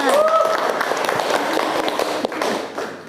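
Brief classroom applause of scattered claps and taps under a teacher's voice, fading out within a few seconds.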